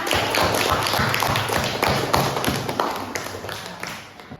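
A school class claps together in a room, a dense, fairly loud patter of hand claps that holds steady for a few seconds and then thins slightly toward the end.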